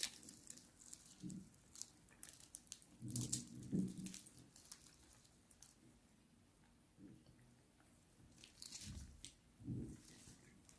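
Crisp bites and crunching into a flaky, layered Turkish Leyli börek pastry, a few separate crunchy bursts over a soft room background, close to the mic with no talking.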